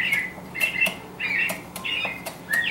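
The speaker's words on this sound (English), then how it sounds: "There's always some wild birds outside." Wild birds outside an open window give repeated bright chirps and squawks at a moderate distance over a quiet room background.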